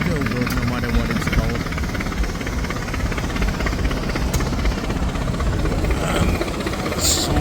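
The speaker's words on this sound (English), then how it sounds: "Some more tractors, if you're wondering what that noise was." Tractor engines run at the Minnesota State Fair, a steady, loud mechanical drone filling the whole stretch with a rumbling low end, while crowd noise mixes in underneath.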